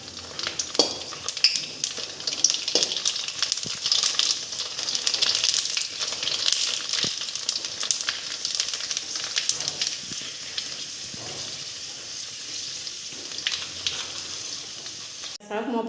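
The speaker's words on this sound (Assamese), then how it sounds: "এয়া মই ভাজিছোঁ চাওকচোন, তেলটো অলপ কমকৈ পকিছে।" Fuchka puris frying in hot oil, with a continuous close sizzle and crackle and occasional scrapes of a utensil against the pan throughout.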